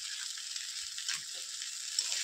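Catla fish heads sizzle in hot oil, a steady, close frying hiss with a few soft stirring knocks, no voices.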